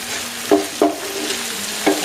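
Fried cauliflower for chilli gobi stirred into gravy in a pan over a low flame: three distinct spoon scrapes against a soft, continuous sizzle.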